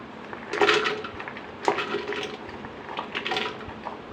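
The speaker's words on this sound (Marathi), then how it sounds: "या शेंगा सगळ्या आपण कुकर कुकरच्या भांड्यामध्ये घालूयात" About half a kilo of raw peanut pods tumble and clatter into a metal pressure cooker pot in a few bursts, with lighter rattles and scrapes between them.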